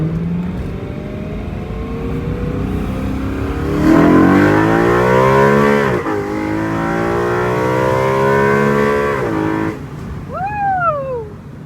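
BMW E92 M3 with a custom double X-pipe valved exhaust, valves closed, revving loudly and close by: rising and falling harmonic engine sweeps over a steady idle rumble, with a short whistling tone near the end.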